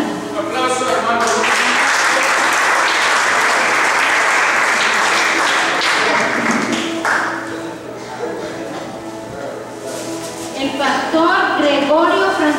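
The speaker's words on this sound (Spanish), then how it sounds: "Aplauso, hermano." Church audience applauding at a pastor's day celebration, a loud, dense burst of clapping filling the room for several seconds, then easing and swelling again, with voices calling out over it.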